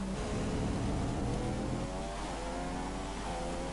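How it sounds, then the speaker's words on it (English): A badly damaged Mercedes race car in a PS4 racing game, its worn tyres gone and the front wing missing, drones at a steady mid-pitched engine note that eases off slightly partway through, with no talk over it. "I have a very, very broken Mercedes."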